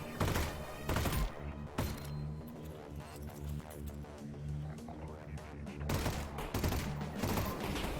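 Video game gunfire in a zombie shooter crackles in bursts, loudest at the start and again near the end, with steady game noise and music in between.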